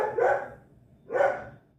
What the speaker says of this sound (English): The dog's yelling at me at the door.